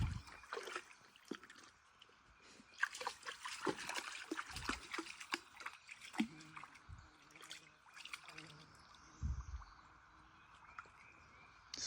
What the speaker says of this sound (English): Something in there bubbling.